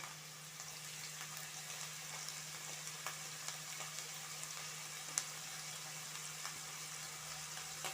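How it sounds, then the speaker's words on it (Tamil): Chicken pizza ingredients fry in oil in a pan, giving a soft, even bubbling sizzle throughout with occasional faint clicks and no speech. "இப்போ நாங்கள் இதை நல்லா இதே ஆயிலில் ஃப்ரை பண்ணிக்கொள்வோம்"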